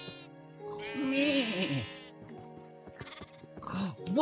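Sheep bleat in the video game Minecraft, a wavering synthetic bleat followed by more animal sounds, with a person talking at moments alongside the game audio.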